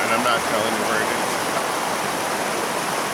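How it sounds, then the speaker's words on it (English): Noisy creek flowing right behind a campsite, a continuous close rushing and splashing of water that fills the whole clip at an even level. "I call it a river. It's a creek, but it's a little bit noisy"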